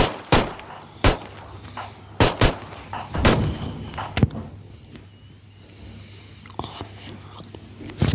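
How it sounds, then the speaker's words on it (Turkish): A bomb blows up in a video game, marked by a string of loud, punchy bangs in an irregular rhythm, close and prominent, with a hissing wash in between and occasional faint voice sounds. "bomba partladı."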